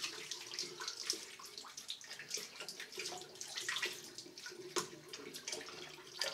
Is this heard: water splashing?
yes